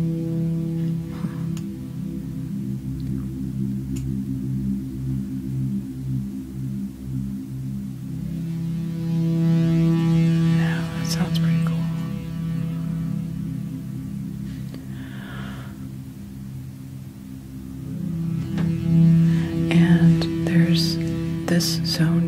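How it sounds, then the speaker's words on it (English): A sustained buzzy U-he Zebra 2 synthesizer drone with a distortion effect, gritty distorted harmonic texture, swelling slightly louder toward the end with faint airy noise overhead. "there's a distortion on here"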